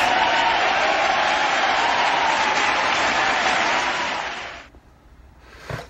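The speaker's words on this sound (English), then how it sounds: "let's throw the applause in there" Applause sound effect dropped into a basketball reaction commentary: a loud, dense wash of crowd clapping that holds steady for several seconds and then fades out quickly.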